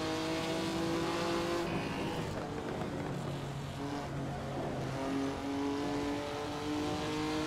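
Racing car engine in Assetto Corsa lugging at low revs on the Laguna Seca circuit, a steady droning hum with shifting tonal pitch, alone without talk.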